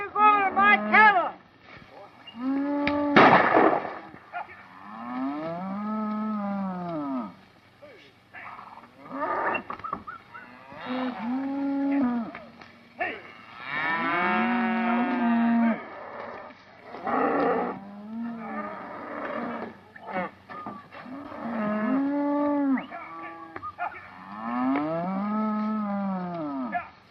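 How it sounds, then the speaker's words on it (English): A herd of cattle on a Western ranch lowing in long, drawn-out moos, several animals calling one after another at moderate distance, with spoken voices now and then among them. "What are you doing with my cattle?"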